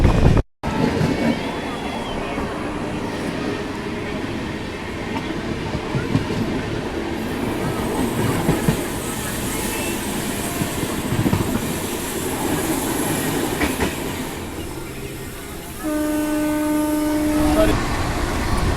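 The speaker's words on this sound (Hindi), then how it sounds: "इधर से देखिए एर्नाकुलम टाटानगर एक्सप्रेस जाता हुआ एर्नाकुलम टाटानगर एक्सप्रेस" Ernakulam–Tatanagar Express passing close by, a steady loud roar of rolling wagons and rail noise throughout, with a brief horn-like tone near the end.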